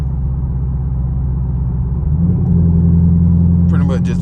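A catless Chevrolet Camaro SS rumbles with a deep, steady exhaust drone heard from inside, the tone rising slightly partway through as the engine pulls harder.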